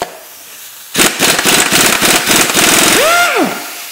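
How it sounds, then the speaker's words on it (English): A pneumatic impact gun rattles loose the cylinder head bolts on a hydro-locked engine, a loud, close burst of rapid hammering after a quiet start, ending with a short rising-and-falling whine as the tool spins down. "I'm just going to air gun them out"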